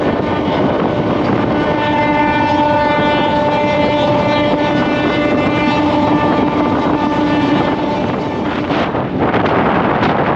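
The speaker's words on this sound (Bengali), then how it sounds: "ট্রেন এখন তমলুকে ঢুকলো" A Howrah–Digha local passenger train pulls into Tamluk railway station with a loud, steady rumble of wheels and carriages. A long, sustained horn blast runs through most of it, with wind buffeting the microphone and no talking.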